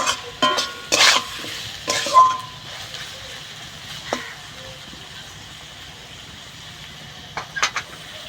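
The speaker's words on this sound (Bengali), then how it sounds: "হলুদ গুঁড়ো, মাছগুলো খুব ভালোভাবে একটু ভেজে নেব।" Dried lote fish fry with turmeric powder in a pan, a soft continuous sizzle broken by a few loud stirring scrapes and clinks near the start and end.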